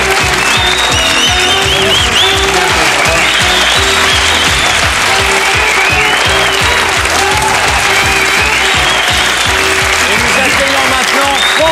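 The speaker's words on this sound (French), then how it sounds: "On applaudit Georges Velasquez." A TV studio audience applauds a guest on a French talk show, loud, sustained clapping with music playing underneath and the crowd noise continuing evenly throughout.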